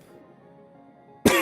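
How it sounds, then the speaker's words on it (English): A single sharp cough bursts out abruptly at the very end, loud and close after near silence. "just coughing"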